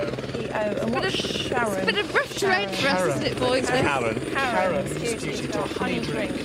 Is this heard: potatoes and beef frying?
no